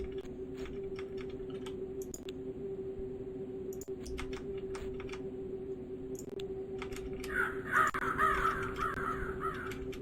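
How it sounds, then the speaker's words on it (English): Crows cawing in the Spellcross game, harsh calls near the end over a steady hum and scattered computer keyboard clicks, with no talk. "Someone found some crow noises, or stole them from Resident Evil 1."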